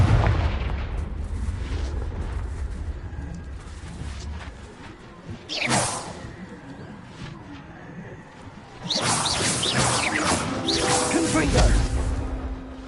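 Confringo blasting spells cast in Hogwarts Legacy, heard as loud whooshing bursts and booming impacts mixed with game noise, with a heavy explosive rush near the end.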